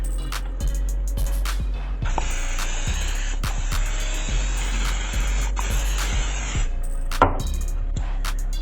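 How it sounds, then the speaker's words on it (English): A steady hissing spray from a can of Pam non-stick cooking spray runs for several seconds, close and loud, over a busy background with scattered clicks and knocks. "I'm just going to spray another coating of Pam spray on them"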